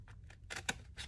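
Scissors snip through folded paper while a junk journal is crafted, a few quick soft crisp cuts in close succession, quiet and close.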